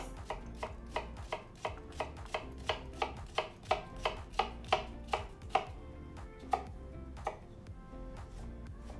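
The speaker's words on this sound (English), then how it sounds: "We take an onion and garlic and slice it." A knife slicing onion and garlic on a cutting board, a run of about twenty crisp, evenly paced chops close by, slowing and thinning out toward the end, with no talk.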